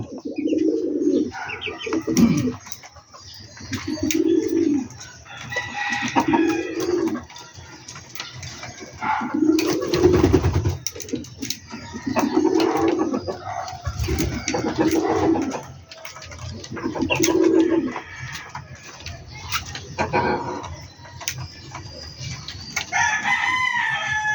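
Flock of pigeons coming down to be fed, giving repeated low throaty coos in a steady rhythm, close and clear, with no talking.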